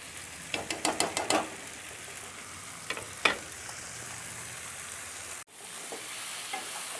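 Sugar being stirred into sweet mango pickle in a pan, a quiet sizzle under a quick run of rhythmic scraping strokes early on, then a few isolated scrapes and a brief cutout, no voices.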